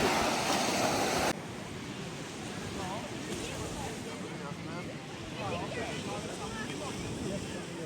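Baltic Sea surf washing onto a beach at Sopot, Poland, with a steady roar of waves, wind buffeting the microphone, and faint chirping birds in the background.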